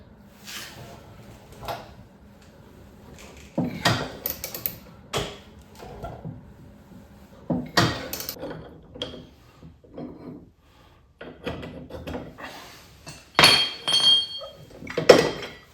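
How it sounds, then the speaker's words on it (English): New ball joints being pressed on during work on a 97 Mustang Cobra, a series of sharp metallic knocks, clinks and ratcheting clicks at irregular intervals, close and fairly loud against a quiet background. "All right, we got the new ball joints, so let's go ahead and press these on."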